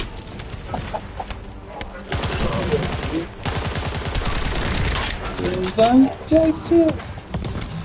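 Rapid automatic gunfire in The First Descendant shooter game, dense bursts of rattling shots running for several seconds, with a voice speaking briefly over the action near the end.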